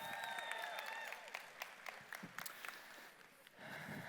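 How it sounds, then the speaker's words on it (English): Applause from an audience at a large national training keynote event, a steady wash of clapping that thins out midway and swells again near the end, with some cheering mixed in. "Round of applause for them real quick."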